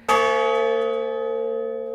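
A single memorial church bell tolled for a veteran's service, one loud clear strike with a steady ringing hum that lingers and slowly fades, alone with no voices.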